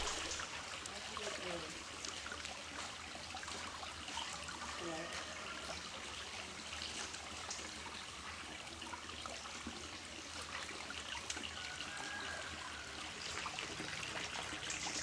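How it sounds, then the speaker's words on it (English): Sulfurous hot spring water bubbles up through the ground in the northern mountains of Thailand, a faint, steady gurgle and trickle that runs on evenly throughout. "This is where the water's actually bubbling up through the crust of the earth."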